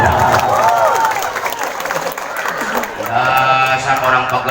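Applause from a crowd at a Maulid Nabi religious gathering in West Java, loud and sustained across the whole stretch, mixed with voices and a speaker talking over it.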